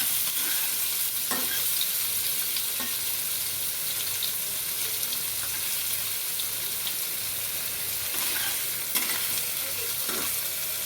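Paneer cubes frying in a pan are gently stirred, giving a steady close sizzle with soft scraping strokes of a spatula throughout, and no voices over it.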